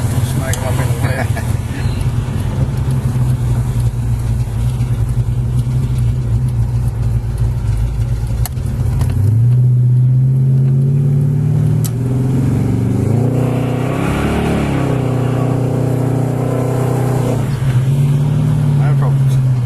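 A 1986 Jaguar with a 350 small-block Chevy V8 idles with a deep rumble, then revs up and accelerates in second gear with a rising, swelling engine note, loud and close, before settling back.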